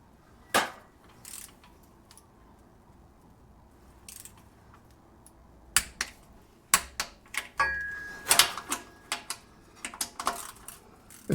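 A torque wrench tightening gearbox bolts on a leaking transmission, giving sparse sharp clicks and metallic ratcheting taps, isolated at first and then clustered more quickly, close and fairly quiet.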